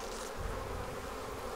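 Honeybees from a recent swarm, many of them drones, buzz softly and steadily inside an Apimaye nuc hive, a faint continuous hum with no voices.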